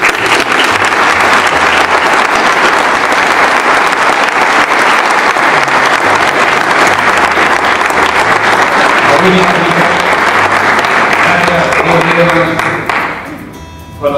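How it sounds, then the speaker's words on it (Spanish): A large audience at a book presentation bursts into sustained, dense applause that stays loud and steady for about thirteen seconds before tapering off at the end, with some voices mixed in underneath. "yo pediría un montón de aplausos también"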